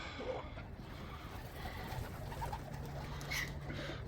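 Racing pigeons coo softly at a loft, their low murmuring calls steady throughout against a faint outdoor background.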